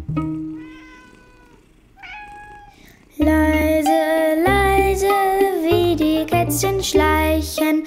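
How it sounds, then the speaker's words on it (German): Cat-like meows rise and fall in a children's sing-along song about creeping kittens, then give way to loud, full musical accompaniment. "Miau."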